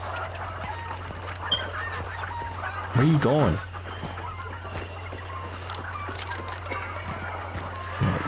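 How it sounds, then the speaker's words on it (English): Chickens in a PS5 horror game let out a short burst of loud honking clucks near the middle, heard over a steady low hum and ambient game noise while a voice speaks briefly. "These goddamn chickens are gonna shut up."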